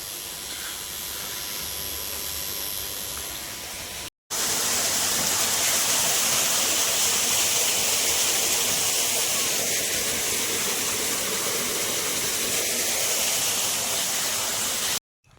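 Irrigation water runs into a carrot field, a steady broadband rushing hiss that continues without pause, briefly cut once and then resuming louder.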